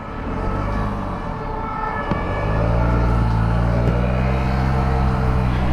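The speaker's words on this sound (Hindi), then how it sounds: "फायर ब्रिगेड की गाड़ी वो सामने जा रही है।" A loud vehicle engine rumbles nearby while a siren wails in the background as a fire engine passes in traffic.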